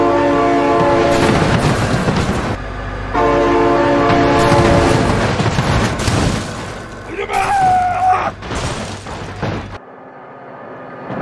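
A train passes close by in a children's animal video, a loud continuous rumble and clickety-clack of wheels on rails with horn blasts, ending abruptly, while excited voices talk over it.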